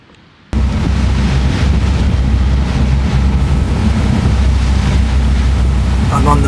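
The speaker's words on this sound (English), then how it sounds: "I'm on the Manly Ferry." Aboard the Manly Ferry crossing Sydney Harbour, a loud, constant rumble of engine and wind buffeting the microphone starts abruptly after a quiet moment and carries on without a break, with a voice faintly mixed in.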